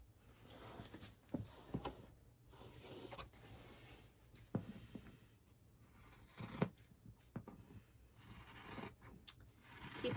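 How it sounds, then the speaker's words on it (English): Scissors cut through soft Minky plush fabric in separate snips and slides, with quiet rubbing of the material and pauses between cuts at close range. "So we'll just cut each piece to 13 inches."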